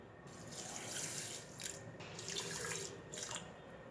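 Water is poured from a tap or vessel onto sugar in a pot to start syrup for mohanthal, a soft, steady splashing stream that swells and ebbs in short bursts, quiet and close, without talk.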